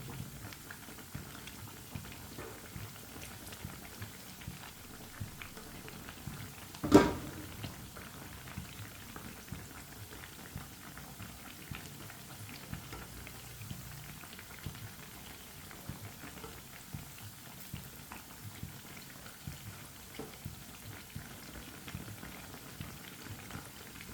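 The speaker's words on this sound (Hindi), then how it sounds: "तमाम टिक्कियों की साइड चेंज करके 1 मिनट तक पकाएंगे।" Aloo tikkis frying in a pan, a soft, continuous crackle and bubble of oil with one brief sharp clatter partway through, no talk.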